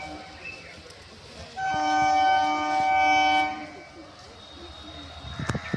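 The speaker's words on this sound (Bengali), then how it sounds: "আওয়াজ পেয়েছো নিশ্চয়ই, এদের গাড়ি ঢুকছে।" A local train pulls into a station and sounds a long, steady horn for about two seconds, loud over a low rumble and a murmur of platform noise.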